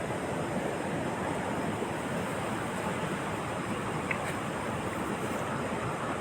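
Sea waves at Varkala beach in Kerala: a constant broad wash of surf and wind noise fills the whole stretch, steady and fairly loud with no clear breaks and no voices.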